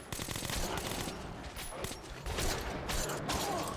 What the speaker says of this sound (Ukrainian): Стріляю, стріляю.